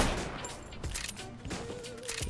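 Silenced sniper rifle shots in a video game crack out as a string of sharp, muffled bursts at irregular intervals over a steady game soundscape, with faint background chatter.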